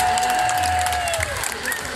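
Crowd applause at an outdoor São Pedro festival concert in Câmara de Lobos, a dense burst of clapping and cheering, with a sustained musical tone ringing through and a few louder voices.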